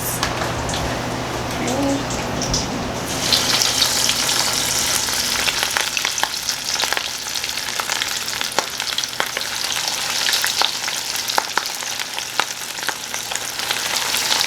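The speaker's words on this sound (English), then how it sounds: "We're going to go ahead and fry them. And your oil should be no hotter than 350 degrees." Coconut shrimp sizzle and crackle steadily in oil heated to about 350 degrees, a dense close-up hiss with scattered sharp pops, continuous and fairly loud throughout with a faint low hum underneath.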